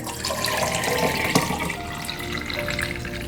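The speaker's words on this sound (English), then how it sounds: "And then I'm going to add some clean filtered water." Filtered water pours over aloe in a steady, moderate trickle and gurgle that continues throughout, with no voices.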